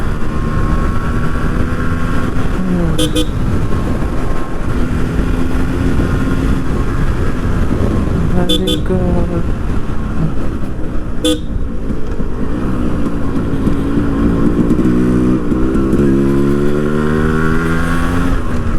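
A 20-year-old Yamaha motorcycle ridden on a road, its engine a loud continuous drone with shifting pitch as the rider works through corners, plus a few short horn toots, wind-heavy and close throughout.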